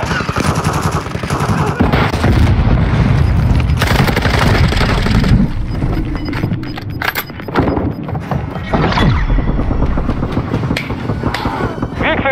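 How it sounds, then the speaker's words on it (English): Loud, dense gunfire and blasts in Call of Duty: Modern Warfare II multiplayer, with a stun grenade bursting amid continuous shooting and booms, close and intense throughout. "Stun grenade!"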